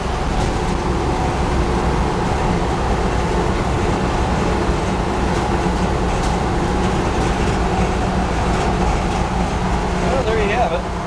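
Broadband, continuous interior road and engine rumble from an EMP-proof vehicle cruising at about 55 to 60 mph, loud and steady throughout, with a voice speaking briefly near the end.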